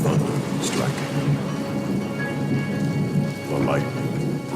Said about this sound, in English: The thunder striking.